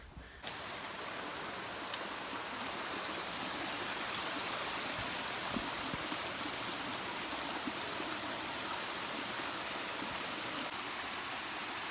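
The Narinetskyi waterfall in the Eastern Gorgany mountains on an autumn hike gives off a steady, even rush of falling water that holds unbroken from start to end, with no voices.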